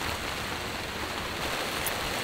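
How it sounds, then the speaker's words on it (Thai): Heavy rain pours steadily on a tent at a campsite in Suan Phueng, Ratchaburi, a dense unbroken hiss with no voices. "ฝนตกหนักมากนะครับ"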